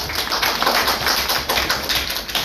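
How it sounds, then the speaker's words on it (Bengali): Audience applause for director M Rahim at a film press conference, a dense, steady crowd clapping that fills the room, loud and continuous with no talk over it. "আর কারোর জন্য এটা চাইবো না, বাট এম রাহিমের জন্য একটা তালি চাই।"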